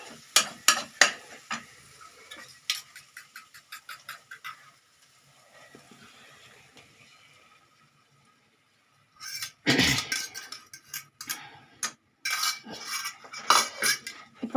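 A spoon stirs beaten eggs with pepper in a pan for egg bhurji, giving scattered metallic clinks and scrapes with a faint sizzle, a quiet lull in the middle, then a louder burst of clattering.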